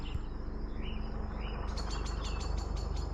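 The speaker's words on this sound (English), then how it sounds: "you can hear the birds." Birds chirp in short repeated bursts over a constant low rumble, the calls growing busier toward the end.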